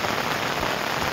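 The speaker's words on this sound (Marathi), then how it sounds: "मुसळधार पाऊस चालू आहे बघा" Heavy monsoon rain pouring down in a village beside a flooding river, a dense, loud, steady hiss of drops beating on surfaces with no pauses.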